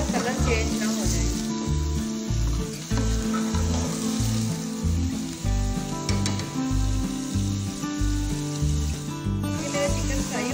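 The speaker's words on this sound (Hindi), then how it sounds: "मेरा चिकन फ्राई हो चुका है" Chicken pieces fry for biryani in a pan until their colour changes, a steady sizzling hiss running throughout beneath prominent background music, with a voice present at points.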